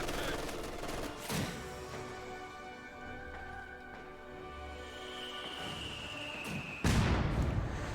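Mortar hits and gunfire in the video game Company of Heroes 2: two sharp, heavy blasts, one early and one near the end, punch through a steady din of battle noise and tonal whine.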